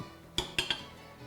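Chilaquiles of chips, beef short rib and salsa served from a pan into a bowl, with three quick metal-on-dish clinks and scrapes close by, otherwise quiet.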